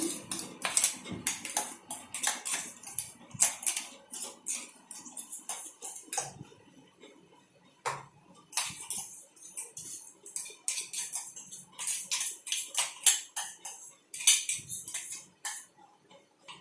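Metal spoon scraping and clinking against a bowl as crushed bourbon biscuit powder is scooped out, a steady run of close, sharp scrapes and taps with brief pauses.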